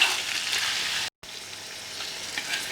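Onion and mutton roast in a pan with a loud, dense sizzle that hisses steadily from close by. A brief gap of silence breaks it partway through before the frying resumes.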